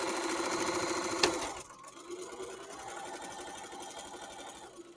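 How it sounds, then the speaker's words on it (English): A sewing machine stitching the final side of a pillow, its rapid rhythmic needle chatter loud and close, easing slightly after a sharp click partway through, with no one speaking. "we're going to finish sewing our last side."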